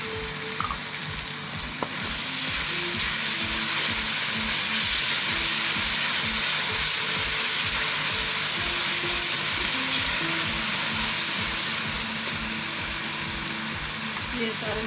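Tomato paste goes into a hot pan of aloo methi with potatoes and fenugreek leaves, and a loud, steady sizzle rises and holds throughout while a spoon stirs and a voice speaks over it.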